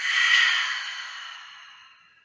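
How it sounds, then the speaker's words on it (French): One long, slow breath out through the mouth during a relaxation exercise, airy and close, loudest at the start and then fading gradually into silence. "Et j'expire, je relâche."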